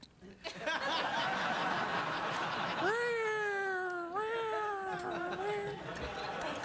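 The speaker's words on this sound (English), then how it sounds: "Did you hear that cat?" A cat lets out a long, drawn-out meow, then a second wavering one, heard clearly over faint background noise.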